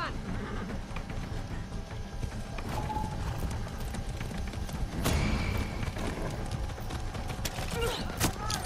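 Horse hooves clip-clop steadily on the ground in Far Cry 6, a close, continuous trotting rhythm with occasional sharper knocks and game ambience underneath.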